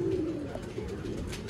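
Adult king pigeons coo in a steady, low, rolling hum that runs continuously and close by, with no voices over it.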